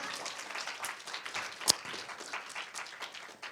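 Students at a winter camp concert applaud a lecturer after a talk, scattered claps forming a brief, uneven round of applause with one sharp loud clap.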